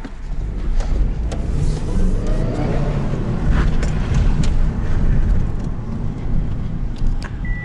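Inside a small manual-transmission car on the move, a loud, steady engine drone and low road rumble fill the cabin without a break, with faint rattles on top.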